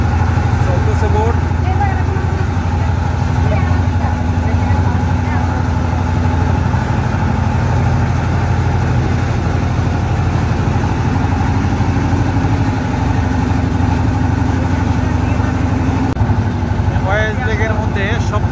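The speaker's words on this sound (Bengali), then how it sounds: "চলতেছে বোট।" A boat motoring across Foy's Lake in Chittagong, a steady low engine drone throughout with people talking over it.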